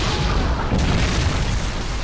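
Predator missile explosion in Call of Duty Modern Warfare 3, a loud, dense boom with a rumbling low-end roar that holds steadily for about two seconds.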